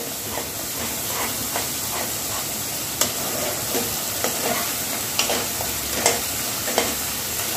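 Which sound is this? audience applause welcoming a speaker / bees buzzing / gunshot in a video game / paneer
paneer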